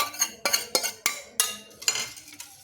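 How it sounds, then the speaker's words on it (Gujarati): A spoon clinks repeatedly against a bowl, about eight quick metallic knocks in an uneven rhythm, while spices are mixed into a buttermilk batter for Gujarati kadhi. "હવે એને સારી રીતે મિક્સ કરી લેવાનું છે"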